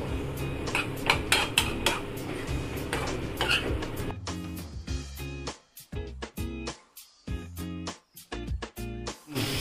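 Green peas are stirred as they fry in a pan, a spoon clanking and scraping against the metal in quick, uneven knocks. The sound is close and fairly loud, with no talk.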